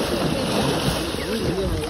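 An elephant wading through a river in Chitwan National Park, with steady close splashing and water churning throughout.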